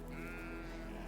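Sheep bleating in a flooded field in the south of England, one loud wavering bleat close by lasting about a second over soft background noise.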